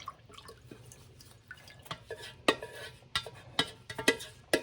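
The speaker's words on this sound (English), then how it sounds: "Then I'm gonna pour this into my glass bowl." A thick emulsified sugar scrub mixture is poured into a glass bowl, giving wet drips and plops with sharper clinks against the glass that build to a cluster of close, irregular taps near the end.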